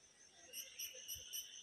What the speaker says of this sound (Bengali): খেয়াল করবেন পাখি এবং পোকামাকড় ডাকছে